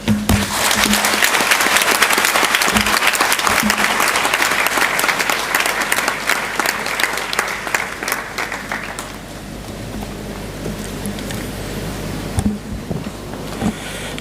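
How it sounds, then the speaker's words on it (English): A university audience at a State of the University address applauds warmly, loud dense clapping that swells for about eight seconds, then thins out into scattered claps over a low hum. "another round of applause, please"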